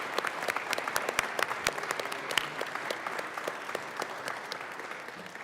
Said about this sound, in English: So please stand and let's give a round of applause to this essential service.